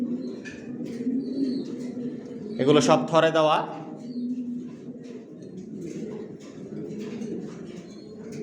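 Janssen line racing pigeons coo in a loft, a low rolling murmur running throughout, with a voice speaking briefly over it partway through.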